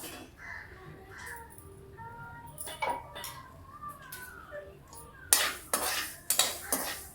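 Finger millet roasting in a hot kadai, with steady scraping and light metallic stirring against the pan, then a run of sharper, louder scrapes and clatters toward the end.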